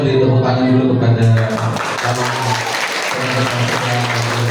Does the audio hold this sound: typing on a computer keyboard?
no